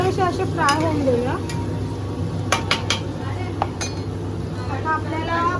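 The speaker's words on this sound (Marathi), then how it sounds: "पनीर थोडेसे असे फ्राय होऊन देऊया." Paneer frying in a pan for a shahi paneer, with a steady sizzle under repeated clinks and scrapes of a spoon stirring against the pan, close and fairly loud.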